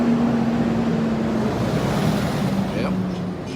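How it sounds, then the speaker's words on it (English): Noisy truck passing by near a Volkswagen Beetle project car, a loud broadband rumble with a steady engine drone that slowly fades, with a voice speaking briefly over it. "a noisy truck coming by here"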